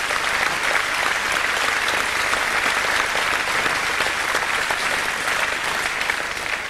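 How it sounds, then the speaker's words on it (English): Steady, loud applause from a television studio audience for the orchestra leader, a dense unbroken wash of clapping that holds evenly for the whole span before easing slightly at the end. "Maybe you can give Fritz his applause"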